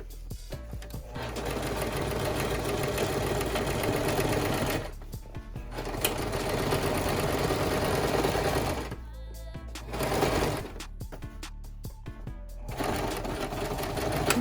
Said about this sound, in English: I sewed the top to the sides, and then I had to sew the back to the sides and the top combination.